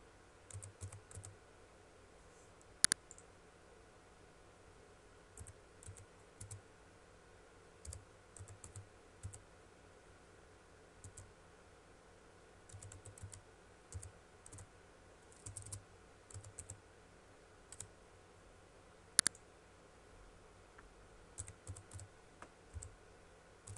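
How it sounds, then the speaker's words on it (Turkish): Soft, irregular keystrokes on a computer keyboard while data is entered into MATLAB, a steady quiet patter of clicks with brief pauses and two sharper, louder key hits, no talking. "Klavye kullanımım biraz yavaş."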